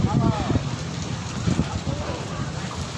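Rain falls steadily on a street market, a constant wet patter with voices talking over it.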